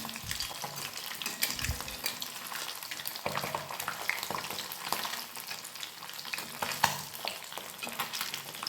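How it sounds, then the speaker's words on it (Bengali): Continuous crackling sizzle of pabda fish frying in hot oil, steady and close, with a few louder pops and spatters. "মাছের অন্য পিঠটিও ভালো করে ভেজে নেব"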